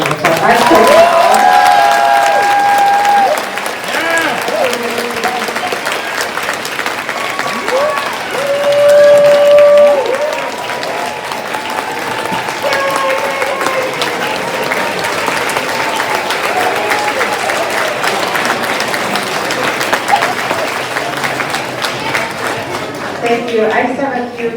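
A crowd claps and cheers after a fifth grade winter holiday concert at a school, a steady loud wash of applause lasting throughout with occasional voices and whoops rising above it.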